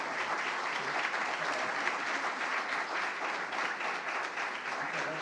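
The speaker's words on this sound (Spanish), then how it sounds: "un fuerte aplauso para los componentes de la mesa" An audience at a library network seminar gives the panel members sustained applause, an even wash of many hands clapping at a distance for several seconds.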